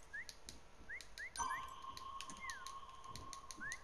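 Short rising whistles from a player in a Fortnite prop hunt game, repeated chirp-like calls at irregular intervals over a faint steady game tone.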